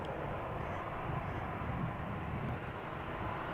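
A 15-year-old KLM Boeing 737-800 arriving at Amsterdam Schiphol from Birmingham fills the clip with a steady, broad jet roar that holds level from start to finish, with no talking.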